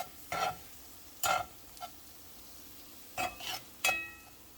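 Vegan Jamaican-style brown lentil stew stirred in a pot, with about five short, separate scraping strokes of a spoon against the pot over a quiet background.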